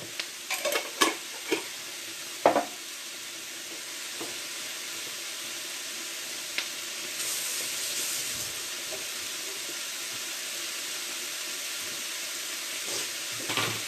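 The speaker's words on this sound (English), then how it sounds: "Things are sizzling away nicely." Vegetables and pesto rice sizzle steadily in a hot frying pan, with a few sharp clinks of a utensil against the pan near the start.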